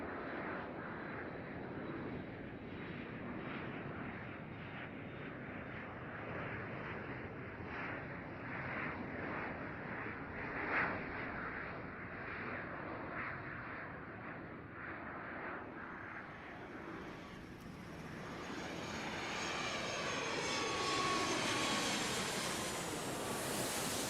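A jet airliner takes off from runway 8 right at Atlanta airport, a broad distant engine roar building gradually and swelling louder and brighter toward the end, with no voices over it.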